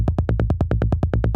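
Roland SH-101 style synth bass pushed through a distorted compressor, playing a fast, even run of about a dozen punchy, buzzy notes with a biting edge, loud and alone.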